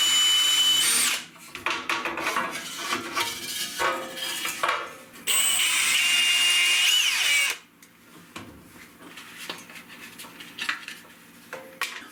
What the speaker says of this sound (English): I'm going to try to drill these rivets out now